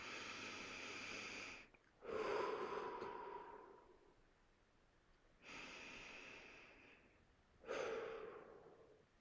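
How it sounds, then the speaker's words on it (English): Slow, deep breaths come close to the microphone, each a long airy inhale or exhale, four in all with quiet gaps between them, and no talking. "Deep breathing, you know?"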